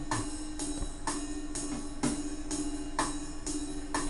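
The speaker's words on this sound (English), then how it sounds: "I got a 8-bar drum loop" A jazz drum loop plays an eight-bar beat, with evenly spaced cymbal and snare hits ticking along in a steady, swinging pulse, quiet and alone.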